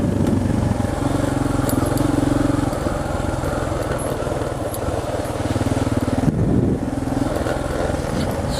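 Off-road motorcycle engines droning loudly and steadily on a dirt trail during a KLR650 adventure ride, a continuous engine rumble with a slight change in pitch as bikes pass.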